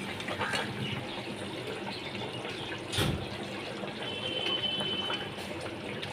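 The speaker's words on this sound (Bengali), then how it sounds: "আর 1 বাটি আমি জল দিয়ে দিচ্ছি।" Water poured from a bowl into a pan of Bengali rui fish curry, a steady splashing gush under soft kitchen noise, with one brief louder splash partway through.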